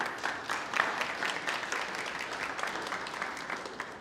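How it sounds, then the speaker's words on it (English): Round of applause from a small audience at a 1 Million Cups Brownsville entrepreneur gathering, soft, steady clapping from many hands at a fair distance, continuing evenly for several seconds. "Let's give it one more round of applause,"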